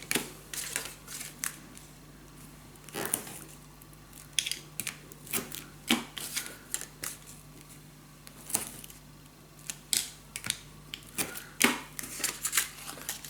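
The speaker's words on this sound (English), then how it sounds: "Now let me first add some tape" Adhesive tape is pulled and stuck onto a scrapbook mini album in a series of irregular close rips, taps and crinkles, with brief pauses between them and no talking.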